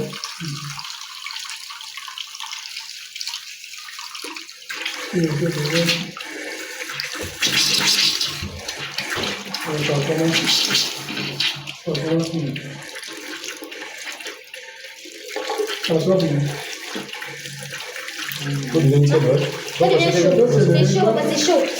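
Icy cold water gushes from a tap in bursts, a loud close splashing flow that starts and stops several times, with people talking over and between the runs.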